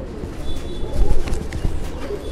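Pigeons coo in low, throaty, rolling pulses, fairly loud and close, repeating through the moment with faint chirps and no talking over them.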